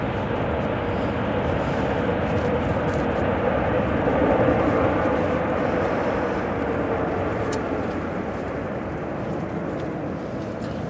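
A TUI airliner lands in gusty weather at Manchester Airport, its broad, steady jet roar holding loud and continuous with a slight swell midway, wind noise mixed in.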